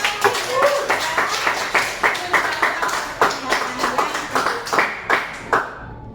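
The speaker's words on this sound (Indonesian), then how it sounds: "Tepuk tangan semua untuk kita." A classroom of students clapping hands together in a rhythmic, evenly paced pattern of distinct claps, loud and close, with a faint voice briefly underneath.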